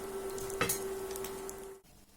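Steady sizzling of mushroom and liver pies frying in a pan, with a constant hum and a brief crackle partway through, then a quieter moment at the end.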